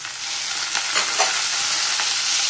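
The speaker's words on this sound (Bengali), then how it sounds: "এটাকে একটু ভালো করে ভেজে নেব এবং চাপা দিয়ে" Prawns fry in hot oil in a pan after cumin seeds are tempered, a loud, steady close sizzle with a few soft scrapes of stirring and no voices.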